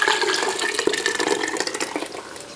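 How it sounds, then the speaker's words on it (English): Butternut squash puree is poured into an Instant Pot with the other soup ingredients for sausage and wild rice soup, a close, steady, wet, sloshing pour lasting a couple of seconds. "And now we'll add our butternut squash puree back in as well."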